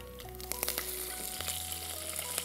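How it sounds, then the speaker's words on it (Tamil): Curry leaves hit hot oil in a pan while prawn kara kuzhambu is being cooked, giving a faint, steady sizzle with scattered crackles and small clicks, heard close with no talking. "சாரி கருவேப்பிலை போடுங்க."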